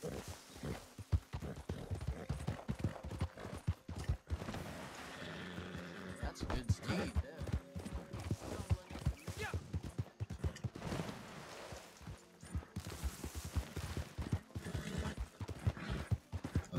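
Galloping horse hooves in a video game clatter in a quick, uneven clip-clop over about seventeen seconds, with occasional sharp bangs and a brief whinny, while someone talks casually over the riding.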